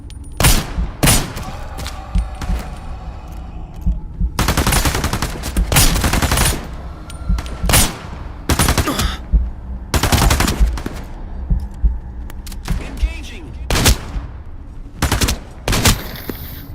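Gunfire from the video game Into The Radius 2 comes in loud, sharp bursts of automatic shots. Brief gaps of quiet fall between the volleys.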